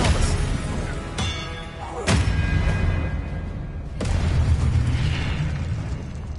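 An Expelliarmus spell effect from the Hogwarts Legacy video game lands as a series of sharp bursts and heavy thumps, three strong hits over rumbling combat noise.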